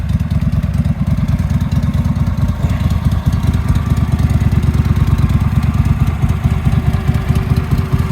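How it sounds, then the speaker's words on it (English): A Case Ingersoll 7020 four-wheel-drive 20-horsepower garden tractor engine runs steadily and loudly up close, with a rapid, even, clattering beat and no talking. "So this is an Ingersoll 7020 4-wheel drive, 20 horsepower, quick attach system."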